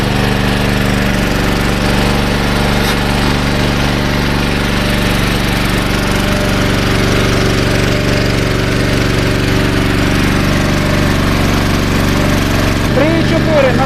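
Champion CPG7500 dual-fuel gas-petrol 7 kW generator with electric start, engine running steadily and loud throughout, a constant hum with a brief shift near the end.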